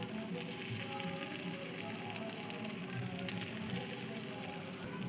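Paneer kofta balls fry slowly over low heat in a pan, giving a steady, dense sizzle and crackle of hot oil that holds an even level throughout with no talking.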